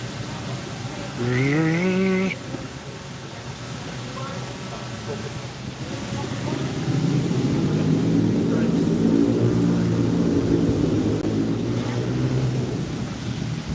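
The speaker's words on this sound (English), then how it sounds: "And down comes the drone." A police drone descends and lands on a city street where officers have gathered, its steady motor whine swelling louder in the second half against background traffic noise, with a brief voice early on.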